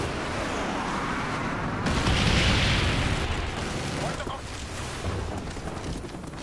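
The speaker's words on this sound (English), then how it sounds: "Bomb strike coming in." Bomb strike explosions in a military shooter video game team deathmatch, a dense sustained roar of blasts and rumbling booms with a louder burst around the middle, mixed under game voice announcements.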